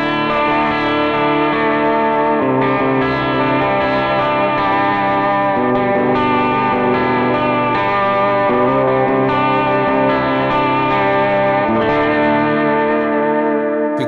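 Electric guitar notes waver with a continuous vibrato wobble, sustained and fairly loud throughout, played alone without any talking.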